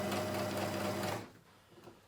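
A sewing machine runs steadily as it stitches fabric for homemade merch, a close, continuous mechanical whir that stops abruptly after a little over a second, leaving a quiet room.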